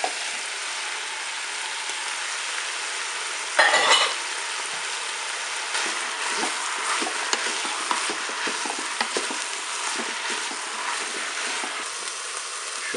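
Cabbage added to bacon lardons browning in a Cookeo pot for express choucroute, a brief loud clatter as it goes in, then a steady sizzle with light scraping and stirring, close.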